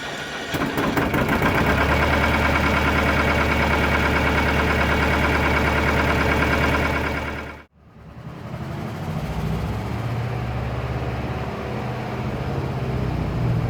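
A Lister ST2 diesel engine on a Winget 4/40E dumper is cold started in Queensland. A loud, close, rapid chugging runs steadily, drops out sharply for a moment, then resumes as a lower, rougher running rumble.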